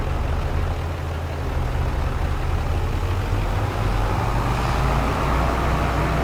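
Tractor engine in Farming Simulator 25 running steadily, a continuous low droning rumble at constant loudness, driving over a lawn with no talk.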